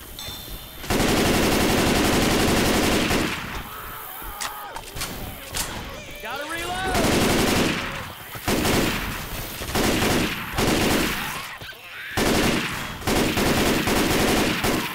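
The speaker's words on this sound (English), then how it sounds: "Assault rifle." Assault rifle fire in Left 4 Dead 2, long loud automatic bursts broken by short pauses, with thuds and other game noise mixed in and voices talking over the shooting.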